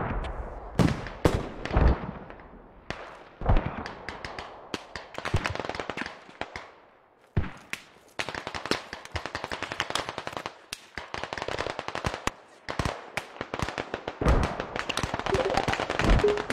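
Rapid bursts of gunfire crackle almost continuously, sharp loud shots in clusters with brief gaps, sounding like a busy firefight in a war video game.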